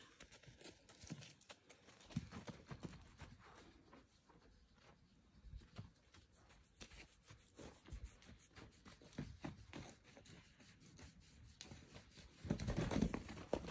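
A loose mare's hooves patter and thud on the ground as she moves about, irregular and fairly faint, with a few louder bursts near the end and occasional bird sounds in the background.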